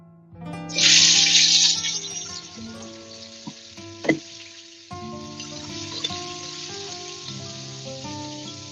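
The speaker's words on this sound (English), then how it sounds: "Might also be a little loud with the frying" Food sizzles loudly in a hot pan, with a sharp burst of spitting early on, then a steadier fry with clinks of utensils.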